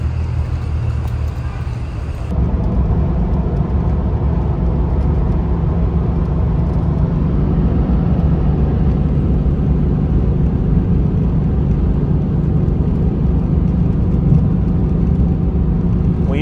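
A drift car drives along a road at night, giving a loud, steady engine and tyre drone that barely changes over the stretch.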